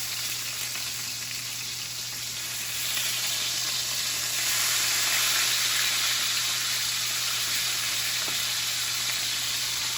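Pork tenderloin sears in a hot pan with a steady, loud broadband sizzle that holds for the full stretch and swells a little midway, alone with no talking.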